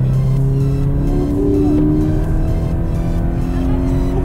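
A Toyota GT86 phase 2, a 200-horsepower rear-wheel-drive coupe with manual gearbox, is held in a slide, its engine droning loudly and steadily with drawn-out tire squeal overlaid, close and continuous with no talking.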